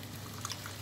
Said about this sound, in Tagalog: lagyan na po natin siya ng